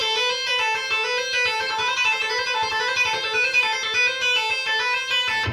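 Electric guitar playing a repeating six-note hammer-on and pull-off pattern, fast, even legato notes sustained continuously and clearly, with no talking.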